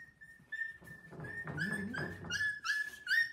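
A stray female street dog whimpers with thin, high, whistling whines, quiet and close, rising into a few sharper cries toward the end.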